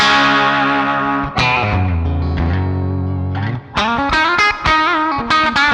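Yamaha Pacifica 502V electric guitar on its humbucker pickup setting, played through effects with echo and reverb: strummed chords ringing and decaying, a sustained low note, then a burst of bright repeated chord stabs, loud and close.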